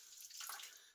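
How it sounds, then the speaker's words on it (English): Warm water splashing as a face is wetted over a basin, a brief soft wash of running and splashing water, close and fairly quiet, with no talking. "to wet our face with warm water to prepare the skin"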